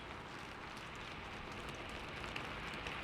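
Steady rain falls and patters on surfaces, a continuous soft hiss with faint scattered drops, low and even, with no voices over it.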